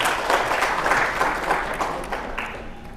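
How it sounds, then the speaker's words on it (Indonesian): Applause from the audience at a talk show, a dense burst of clapping that starts loud and fades over a few seconds. "Tepuk tangan dulu untuk beliau."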